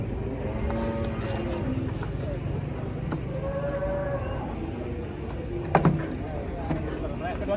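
Cow being loaded onto a truck gives several drawn-out moos amid shuffling, knocks and handling noise, with people talking over it.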